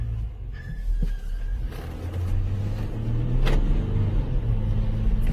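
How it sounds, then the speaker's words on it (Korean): A Jeep Grand Cherokee accelerates up a steep slope, heard from inside the cabin as a low rumbling engine drone that swells steadily in loudness across a few seconds, with no talking. "출력 테스트를 위해서 제가 악셀도 한번 밟아보도록 하겠습니다"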